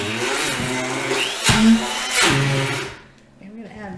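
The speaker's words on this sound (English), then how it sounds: "this is an immersion blender. This has a blender on the bottom." An immersion blender purees cream of vegetable soup with a loud, steady whirring grind for about three seconds, then cuts off abruptly. A voice is faintly present beneath the motor.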